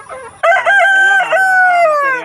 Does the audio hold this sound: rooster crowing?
yes